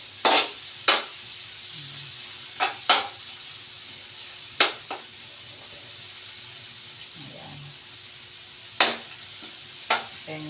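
Two chopped onions sauté in a home pan, with a soft sizzle underneath and a few sharp, scattered scrapes and clinks as a spoon stirs them, close by and without talk.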